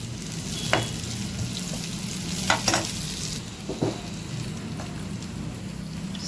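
Carrot, beans and capsicum frying in a pan for a veg sizzler, a steady hiss of oil with scattered clinks and scrapes of stirring, close and continuous, no voice.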